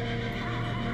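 A voice imitating a horse's neigh, a loud, steady whinnying tone held for about a second, close and alone.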